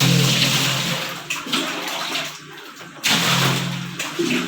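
Water pours and splashes loudly in two bursts separated by a short quieter gap, close up and without any talking.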